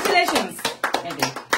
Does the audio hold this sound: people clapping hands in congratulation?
yes